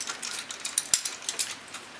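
A ratcheting power puller, a steel hand tool used to pull trees out of the ground, clicks in a quick, uneven series of sharp metallic ratchet snaps, close and alone.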